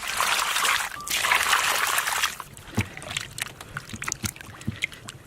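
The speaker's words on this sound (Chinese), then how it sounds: "先把羊下水洗干净" Sheep offal being washed by hand in water in a home kitchen, with steady splashing and sloshing at first, then scattered trickles, drips and light knocks.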